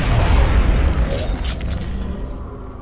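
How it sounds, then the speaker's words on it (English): A grenade launcher blast in XCOM Enemy Within opens with a loud, deep boom that trails off into a rumbling, crackling decay over a few seconds. "grenade launcher."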